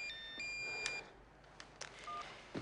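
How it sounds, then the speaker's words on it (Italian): A mobile phone goes off in an Italian drama scene as a quick run of bright electronic tones and beeps, faint and brief, with small clicks between them. "E fai stare zitto quel cazzo di cellulare."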